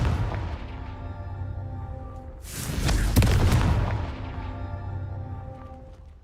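A Confringo spell from the video game Hogwarts Legacy bursts in a single loud, booming explosion that swells and then fades slowly, set against a low sustained musical backdrop.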